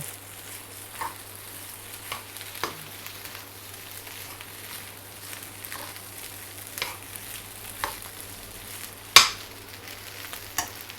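Vegetables being stir-fried in a hot wok for fried rice with marinated pork, Chinese sausage and egg, a steady soft sizzle broken by the scrape and clack of the spatula against the pan.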